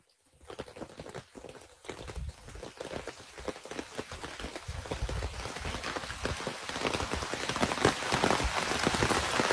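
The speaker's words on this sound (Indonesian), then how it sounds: "Ini lebat, hujan lebat." Heavy rain pours steadily in a paranormal horror video game, a dense hiss of drops that builds louder over the stretch, with scattered heavier patters and no talking.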